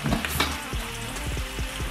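Mushrooms and a quarter cup of flour sizzle steadily in butter in a pan, with a few scrapes and stirring knocks over the continuous frying hiss, and no talking.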